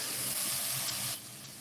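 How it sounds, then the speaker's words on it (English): Food sizzles in a hot frying pan with a steady, close, bright hiss that drops to a quieter simmer near the end. "you can kind of hear that sizzle"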